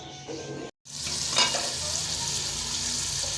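Meat and onion sizzle steadily in mustard oil on a stove, a dense close frying hiss that runs throughout, broken by one brief gap early on.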